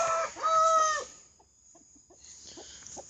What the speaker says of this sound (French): Une ma poule Orpington, vu qu'elle couve.